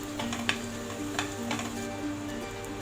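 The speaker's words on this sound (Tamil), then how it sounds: "அடுத்ததாக 3 பச்சை மிளகாய் சேர்த்துக்கிறேன்" Three green chillies and onions with curry leaves sautéing in hot oil: a soft, continuous sizzle broken by a few sharp clicks and taps of stirring, with no one talking.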